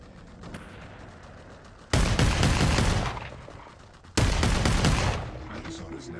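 Two loud bursts of rapid gunfire in the VR shooter Population One, each starting abruptly and rattling for about a second before tapering off, with quieter game ambience between.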